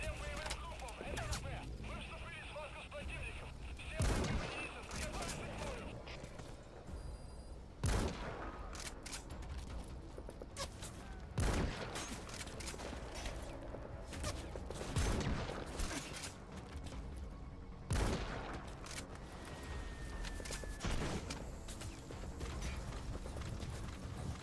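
Gunfire in Metal Gear Solid V: The Phantom Pain, sharp shots and short bursts spread irregularly across a busy game soundscape with ambient mechanical noise, some shots close and loud, others more distant, under occasional player talk.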